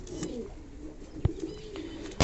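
Pigeons in a breeding loft coo softly in low, rolling phrases, with a few sharp taps or wing knocks cutting through near the start and end.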